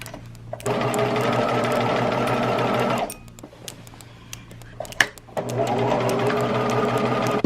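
A sewing machine stitches an X across a market bag strap, running in two steady sustained bursts separated by a short quiet pause with small handling clicks, close and loud.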